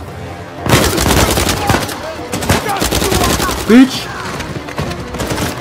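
Enemy gunfire in Uncharted 4: A Thief's End, loud rapid bursts of rifle shots crackling in several volleys close by, with someone talking and cursing between and over the shots.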